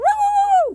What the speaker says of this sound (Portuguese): Tem cachorrinha latindo